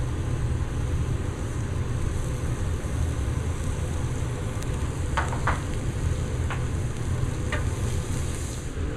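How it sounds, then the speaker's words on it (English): A Tuscan steak sears on a high-heat grill with flames, giving a constant loud sizzle and roar throughout, dotted with a few sharp pops and crackles partway through, and no one talking. "Now, while the steak is cooking, look at that beautiful little sear we've got going there."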